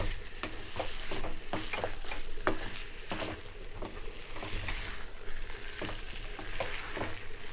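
Chicken pieces coated in ginger garlic paste being stirred in a hot pan for chicken curry, a frying sizzle broken by repeated scraping and clacking strokes of a spoon against the pan, close and moderately loud, no voices.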